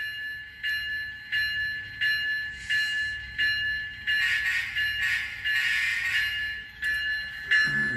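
A model train from a small model railroad layout runs along the track, its repeated wheel clicks over rail joints forming a steady rhythmic pattern, with a faint ringing bell tone throughout and no talking.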